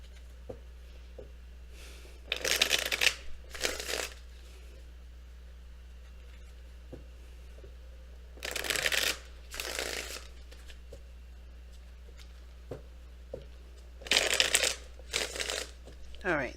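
Tarot cards are shuffled up close in quiet, crisp riffling bursts, three pairs of quick flurries separated by short pauses.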